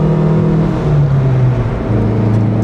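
Ford Fiesta Mk1 with its 950 cc Valencia engine pulls hard under acceleration, a steady loud drone with rising engine pitch that dips and climbs again as it shifts, continuous throughout with no talking.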